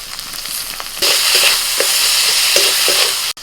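Salt, turmeric, Kashmiri chilli powder and chopped tomato hit hot oil in a pan and burst into a loud, steady sizzle, broken by a few short stirring scrapes.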